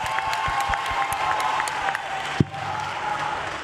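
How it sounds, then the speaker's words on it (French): Audience applauding the winner at a Just Dance French Cup competition, a crowd clapping steadily under music, with a sharp single bang midway and the applause thinning afterward. "On va applaudir le vainqueur,"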